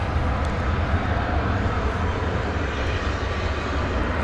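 Airliner taking off from DFW Airport on a flight to Denver, heard as a broad, steady roar of jet engines that holds loud and even throughout, with no voices.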